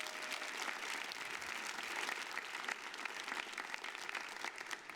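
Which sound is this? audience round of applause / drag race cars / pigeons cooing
audience round of applause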